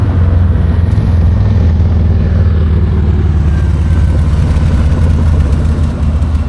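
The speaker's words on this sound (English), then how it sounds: "Dude out riding his motorcycle with the overalls on" Steady low engine rumble of a motorcycle on a downtown street in Bastrop, Louisiana, loud and close, holding a constant idling drone throughout with no voices.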